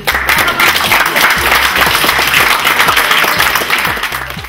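Audience applause at a beauty pageant, a dense, steady wash of many hands clapping that stays loud throughout, with a faint voice underneath.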